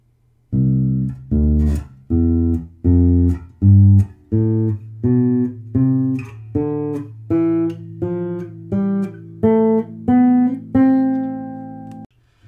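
A bass guitar plucks a rising major scale over two octaves, one even note at a time in steady rhythm, ending on a longer ringing note.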